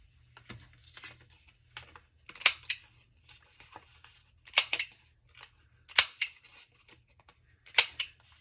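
Scissors snipping around the corners of a small paper hang tag, a handful of sharp separate cuts spaced a second or two apart against a quiet room, close and crisp.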